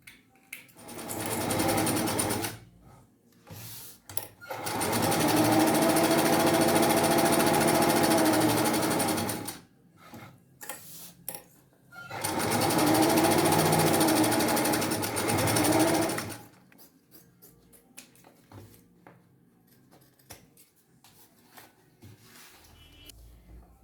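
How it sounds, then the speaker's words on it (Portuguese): Domestic sewing machine stitching bias binding onto a fabric pouch lining, in two long bursts of rapid mechanical whirring plus a few short runs, separated by pauses and quiet handling. "Então, nós vamos passar o viés e costurar."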